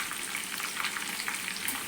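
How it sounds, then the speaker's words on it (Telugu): Chopped ginger frying in oil with dried and green chillies, a steady crackling sizzle with light popping, close and uninterrupted. "అవి కొంచెం మగ్గాక మనం చిన్నగా తరిగి పెట్టుకున్న అల్లాన్ని వేసుకోవాలి."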